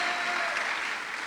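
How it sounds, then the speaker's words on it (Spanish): Church congregation clapping together in praise, a brief, even wash of applause filling the hall without pause. "Denle fuerte las palmas al Señor."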